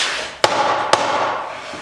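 Two sharp mallet taps on the joints of a timber panel door during assembly, close and distinct, about half a second apart over a steady background hiss.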